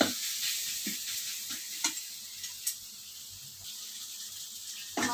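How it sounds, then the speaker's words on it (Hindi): Masala with red chilli powder for aloo gobi sizzles quietly in a pan, a soft steady hiss with a few light scrapes as it is stirred. "मसाले को अच्छे से फ्राई कर लेंगे"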